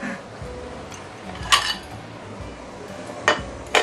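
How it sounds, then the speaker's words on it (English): Braised pork belly being dished out of a pot: a few sharp clinks of a utensil against the pot and dish, spaced out over a low, steady background, with no talking. "Okay, I'm going to dish it out."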